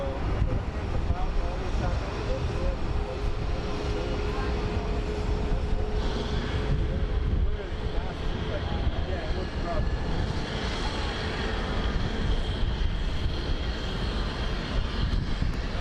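A Boeing 777 airliner moving at Phoenix Sky Harbor airport, heard as a steady roar of jet engines from some distance, with people talking faintly through it.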